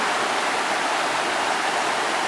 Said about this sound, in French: Alors vous me direz, encore une rivière.